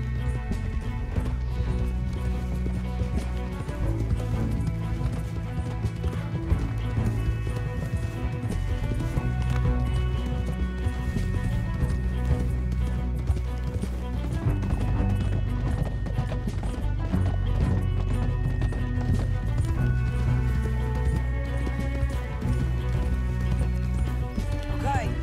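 Horses gallop at speed in Red Dead Redemption 2, with steady hoofbeats and occasional whinnies running beneath game voices and a dramatic music score.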